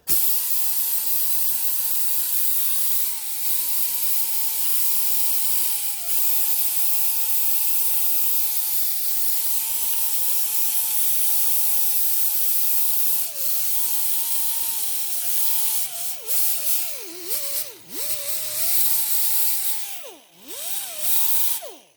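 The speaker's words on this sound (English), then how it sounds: "So what I suggest doing is grinding off the lip of rust here so that you can get a nice flat surface." A grinding disc works the rust lip off the rear brake hub of a 2009 Subaru Forester, a sustained high whine running steadily up close, then stuttering and dipping in pitch as the disc bites and lifts off the metal near the end.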